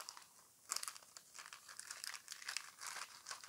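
Sealed plastic foil wrapping with a tear strip being ripped open on packs of playing cards, giving faint, close crinkling and crackling in short irregular bursts.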